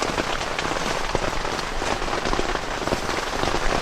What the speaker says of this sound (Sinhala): මාරම හයියෙන් වහිනවා.